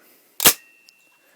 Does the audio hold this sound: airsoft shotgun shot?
yes